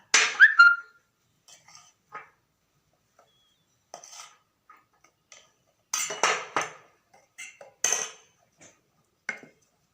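Zebra cake batter ingredients are mixed in a bowl, giving scattered clinks and scrapes of a utensil against the bowl in short irregular bursts, close and fairly quiet with pauses between.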